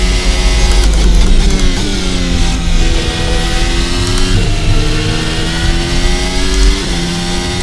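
A Formula Hybrid race car in a racing game accelerates hard, its engine pitch climbing and dropping through repeated gear shifts, loud and close with no other sounds.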